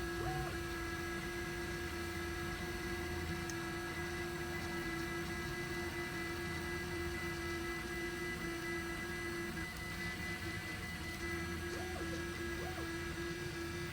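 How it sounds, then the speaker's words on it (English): A Cetus MK3 3D printer hums steadily while printing, a quiet, even whine with constant tonal motor notes and faint soft chirps, with no voices present. "As you just heard, the printer wanted to give you guys an idea how loud it was"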